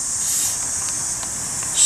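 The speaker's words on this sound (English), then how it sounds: "Just keep spraying liberally." Aerosol rust-prevention spray hisses steadily into a corner of a Mercedes-Benz R129 body behind a plastic cover, a continuous close spray with a brief louder burst near the end.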